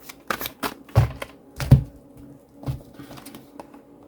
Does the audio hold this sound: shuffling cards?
yes